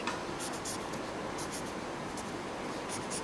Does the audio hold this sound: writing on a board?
yes